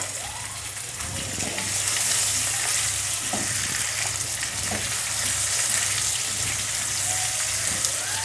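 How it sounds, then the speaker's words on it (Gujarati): Boiled potatoes sautéing in hot oil with turmeric and spices for a Gujarati green potato curry, a steady close sizzle and crackle with occasional stirring scrapes and a low background hum. "બટેકાને તેલમાં આ રીતે સાંતળી લઈશું।"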